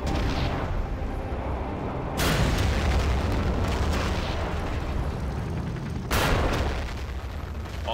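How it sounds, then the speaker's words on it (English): Long-range ballistic missiles from the Russian Strategic Missile Forces in the Generals: End of Days video game launch and explode in heavy rumbling booms. Two sharper blasts rise above a continuous loud roar. "A burst of long-range missiles at your disposal."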